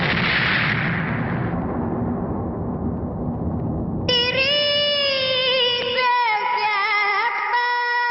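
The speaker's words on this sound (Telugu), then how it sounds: "ఇదేంట్రా గొబ్బెమ్మ పేలింది?" A bomb goes off in a Telugu comedy film scene: a loud, broad blast that rumbles and slowly fades over about four seconds, then gives way to sustained music with no talk.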